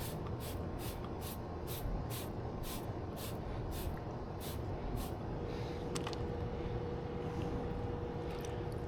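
A spray bottle of brake cleaner hisses in a rapid series of short bursts for several seconds, close by, then stops, with steady background noise throughout.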